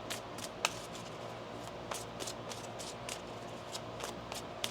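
Tarot cards are shuffled softly, a steady riffling patter with a few sharper snaps, quiet and close, with no talking.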